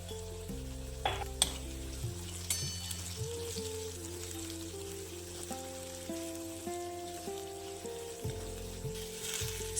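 Spiced radish in a hot kadai, seasoned with salt and turmeric, is stirred with a faint sizzle and occasional scrapes and taps, quiet and close with no one talking.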